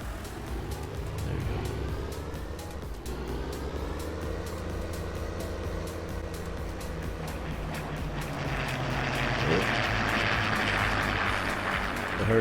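Vintage Hawker Hurricane fighter planes droning overhead in a Farming Simulator 19 game world, a steady propeller-engine hum that swells louder toward the end, with no talk.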